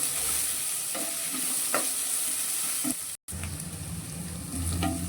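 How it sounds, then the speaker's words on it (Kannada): Onions fry in a pan for matar paneer, giving a steady, close hiss of sizzling oil with soft stirring scrapes and one brief drop to silence partway through. "ಇದು ಕಲರ್ ಚೇಂಜ್ ಆಗೋ ತನಕ ನಾವು ಫ್ರೈ ಮಾಡ್ಕೋಬೇಕು, ಸ್ಮೂತ್ ಆಗಬೇಕು ಆನಿಯನ್"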